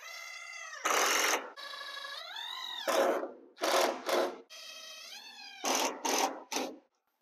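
A power driver sinks screws into a wooden cab dolly, its motor whining in about eight short bursts of rising and falling pitch, each close and separated by brief pauses.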